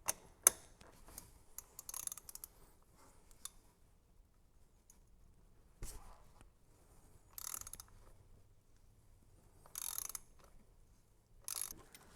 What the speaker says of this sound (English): put the ratchet on to get the torque you need to break it loose